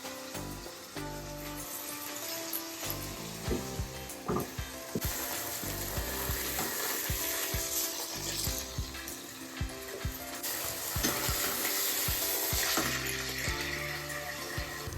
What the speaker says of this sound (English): This helps it sear, not steam.